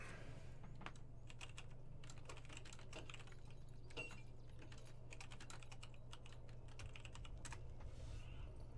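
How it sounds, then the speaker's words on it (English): Fingers tapping on a computer keyboard in quick irregular bursts of keystrokes with brief pauses, quiet and close over a faint low room hum. "Here, I'll type it out."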